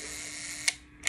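A Rolleiflex camera shutter set to 1 second fires up close, with a steady mechanical whirring from the timing gear, a sharp click midway, then a quieter close and a final snap.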